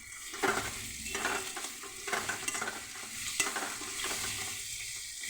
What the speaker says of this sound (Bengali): পেঁয়াজ লঙ্কাটা ভালো ভাজা হয়েছে, এবার আমি আস্তে আস্তে আলু ভাজিটা